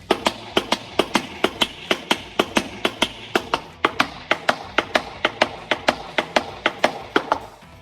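Rapid, even tapping of shoes on a hard floor, crisp clicks in a steady quick rhythm, close and alone for several seconds.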